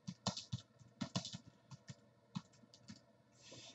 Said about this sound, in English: So now I can type in my subject line